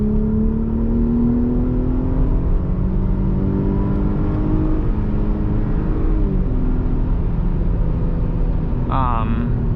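A Jeep Grand Cherokee 3.6L V6 with an aftermarket exhaust accelerates from inside the cabin, with a loud, deep engine drone rising in pitch and then holding steady for nearly ten seconds.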